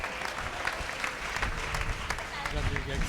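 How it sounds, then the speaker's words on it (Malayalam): A church congregation claps together in dense, sustained applause at a healing prayer meeting, with a voice talking over the clapping throughout. "ചുണയായിട്ട് കൈയടിച്ചേ"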